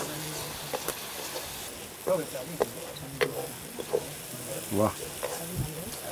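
Sizzling and stirring of onion, crushed ginger, garlic and cumin frying in a pan outdoors on a riverbank, a steady soft hiss with scraping stirs, under a brief spoken exclamation.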